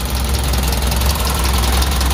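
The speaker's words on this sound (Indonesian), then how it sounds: "Ini mesin halus banget, Lik." A Suzuki Futura pickup engine idles close by with a steady, even chug and a faint mechanical tick, running alone without talk.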